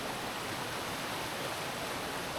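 A rainforest creek in Far North Queensland flows at a trail crossing, giving a soft, even rush of water that stays steady throughout with no voices.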